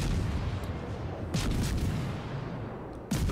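Heavy naval guns of the Mogador destroyer firing in World of Warships, a dense rumbling barrage with sharp bursts near the middle and at the end over a continuous low roar.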